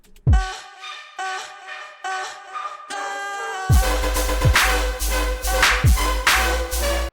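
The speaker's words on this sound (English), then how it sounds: "There is a DFX buffer override that kind of just glitches" A riddim track run through a DFX buffer override glitch effect, with stuttering repeated chopped fragments in its first half, then heavy bass hits and dense glitchy synth layers building up loud.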